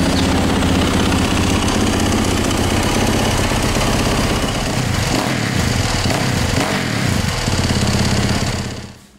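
A Yamaha YZ dirt bike engine runs loud and close with a rapid, raspy single-cylinder idle that stays steady for several seconds before cutting off abruptly at the end.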